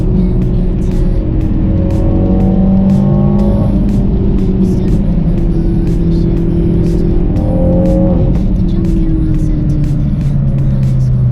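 A car launches hard using launch control and spins its tires, and the engine revs climb loudly, drop, then climb again through a second pull, all close and dominant.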